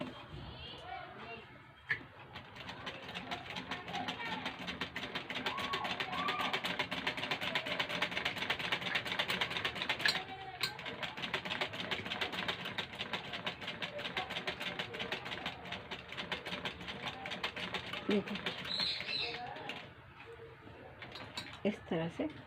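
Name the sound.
sewing machine stitching a curved neckline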